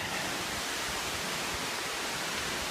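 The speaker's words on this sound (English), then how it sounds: "you can hear the falls are running" Steady, dense rushing water roars without pause, a broad hiss like falling water close by, with no voices.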